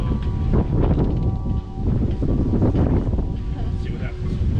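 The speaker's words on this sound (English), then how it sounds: "Wind picked up while we were checking everything out" Wind buffets a sailboat as the mainsail is being bent on and checked, a steady rushing roar against the microphone running throughout, with people talking over it.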